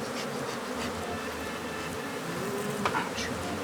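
Dense, continuous buzzing of a swarm of killer bees, close and steady, with faint background sounds.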